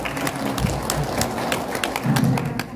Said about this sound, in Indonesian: Beri tepuk tangan yang meriah Bapak Yuda.